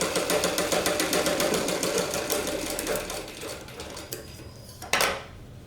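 A sewing machine stitching the front of a blouse, its rapid needle chatter running in an even mechanical rhythm before slowing and stopping, followed by a brief sharp click.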